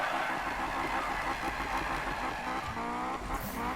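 An Acura RSX drift build in Need for Speed slides with a steady engine drone and tire noise, its pitch shifting as the car drifts. The sound is continuous and fairly loud, with no voices.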